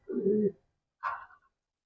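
Pigeons at a home loft give two short, soft coos a moment apart, close by and otherwise quiet.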